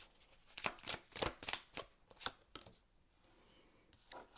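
A deck of tarot cards is shuffled in a quiet room, giving a series of crisp riffling snaps and flutters in quick bursts that fade into softer handling.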